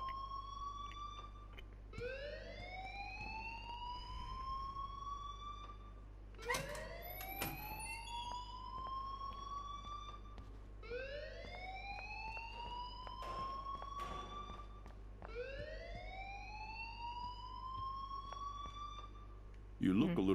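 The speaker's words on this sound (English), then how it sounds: "please turn off that alarm" A repeating electronic alarm in the video game Life is Strange, made of rising whooping sweeps that recur every few seconds over a steady low hum, continuous and fairly loud throughout, with brief clicks and bursts layered in.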